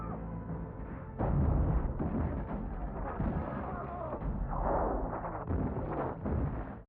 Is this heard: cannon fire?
yes